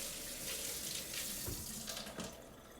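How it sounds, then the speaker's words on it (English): Water from a kitchen sink tap runs steadily as oily hands are rinsed under it, a close, even splashing with small bursts where the hands break the stream. "Wash my hands."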